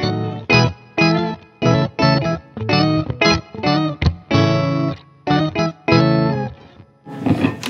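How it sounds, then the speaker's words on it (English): Electric guitar through an octave pedal with both upper and lower octaves cranked, producing a thick organ-like tone; short choppy chord stabs repeat in a quick rhythm, loud and close, followed by a brief noisy burst at the end. "And if you crank both, you get sort of an organs kind of sound."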